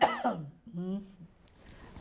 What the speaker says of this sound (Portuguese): Antes da tosse